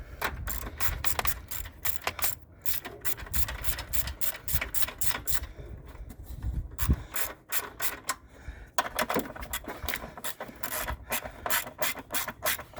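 A battery hold-down is tightened on a 2016 Subaru Crosstrek, heard as rapid, close ratcheting clicks and rubbing metal in repeated bursts with short pauses between them.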